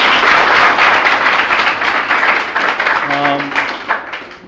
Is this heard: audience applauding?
yes